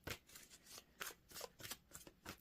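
Tarot cards are shuffled close up and quietly, giving a run of soft, rapid riffling bursts in an uneven rhythm, with no talking over them.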